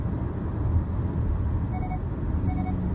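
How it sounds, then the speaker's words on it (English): A 2019 Hyundai Santa Fe's lane departure warning gives two short, faint beeps over steady road and engine noise inside the moving SUV. "You hear that beep?"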